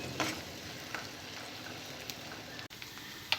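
Tomato paste cooking down in hot oil for Hyderabadi egg kurma, giving a steady soft sizzle with faint bubbling and a few light stirring taps, close and quiet, with no talking.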